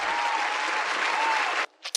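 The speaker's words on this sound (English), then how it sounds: "Can we get a round of applause, please?" Dense applause from a podcast audience, steady and full for over a second and a half, then cutting off abruptly with a couple of brief trailing sounds.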